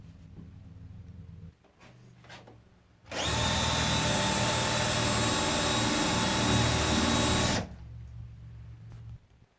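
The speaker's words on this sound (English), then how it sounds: "So I'm going to do that and drill that now." A power drill whirs loudly for several seconds drilling into a wooden tic-tac-toe board, steady and close, with quieter handling noises before and after.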